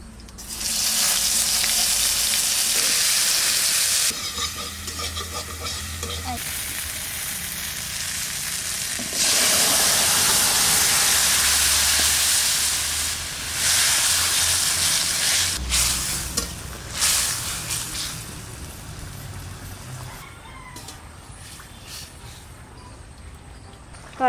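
Cumin and coriander fry in mustard oil in a village kitchen, a loud, harsh sizzle that surges in bursts as spices hit the oil and are stirred, then settles into quieter crackling.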